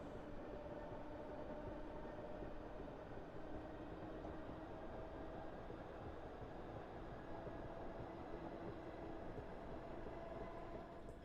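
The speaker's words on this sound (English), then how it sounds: "This is the most power I can apply on this train." Electric train in a train simulator game pulling at full power on a South London inner service, a steady continuous motor drone with faint tonal whine held evenly throughout, no talk.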